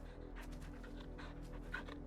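Quiet, rhythmic panting comes from the hound companion in the video game Final Fantasy 16, a run of soft breathy puffs over a steady low game hum.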